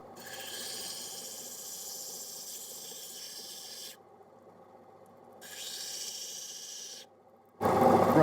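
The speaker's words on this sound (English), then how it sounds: "We're on 240 grit because I don't want to be too aggressive with this yet." Opal on a 240 grit wheel makes a steady, close grinding hiss in two long stretches separated by a quieter pause, then a sudden louder burst of noise.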